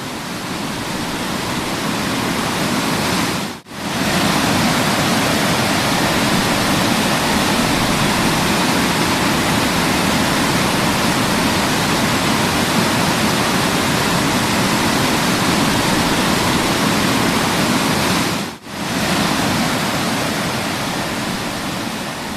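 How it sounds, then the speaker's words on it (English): Bopath Ella waterfall in Sri Lanka, a wide cascade, roars as a steady, loud, unbroken rush of falling water, with two brief dips in the flow. "This is having the longest width among other waterfalls in Sri Lanka."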